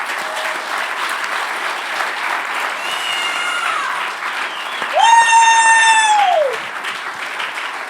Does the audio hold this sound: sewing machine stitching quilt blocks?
no